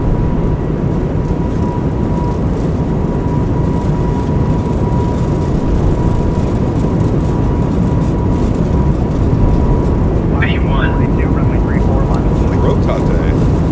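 Airbus A220 engines run at takeoff power in a flight simulator, producing a loud, constant, dense roar with a thin steady whine above it. A voice speaks over the noise near the end.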